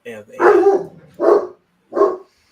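A pet dog barks in three loud, separate bursts close by, with a short pause between each, during a casual chat between people.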